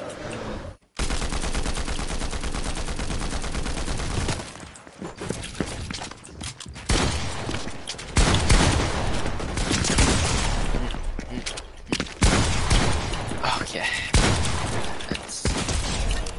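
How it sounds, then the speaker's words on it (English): Rapid bursts of gunfire crackle through a Fortnite match, loud automatic fire in dense stretches broken by short pauses and mechanical clicks, with footsteps and other game sounds mixed in. "Oh, I think Movie's just shooting everyone."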